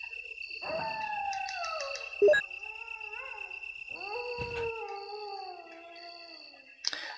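A dog howls in the Resident Evil 1 Director's Cut game: long, wavering, drawn-out howls repeat several times, eerie and moderately distant over quiet ambient hum, with brief sharp noises between them and no talking.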